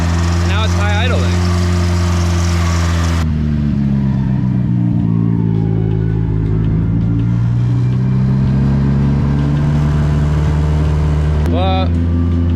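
A Nissan S13 engine sits at a high idle, a steady low rumble throughout, with a couple of short vocal bursts at the start and near the end.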